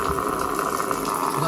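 Water from a koi pond gushing steadily out of pipes, a continuous close rushing, splashing flow with no breaks.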